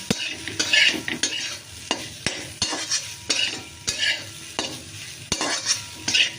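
Soybean curry sizzles in hot oil after turmeric is added, stirred hard with a metal spoon. Repeated scraping strokes and clinks against the pan land in a rough rhythm over constant close frying hiss, with no voices.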